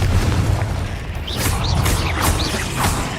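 Confringo fire-blast spell cast in the video game Hogwarts Legacy: a deep, rumbling boom sits under a sustained low roar, with several sharp crackling bursts scattered through it.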